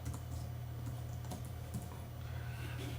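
Soft, quick keystrokes on a computer keyboard, steady irregular tapping close by over a low constant hum, with no talking.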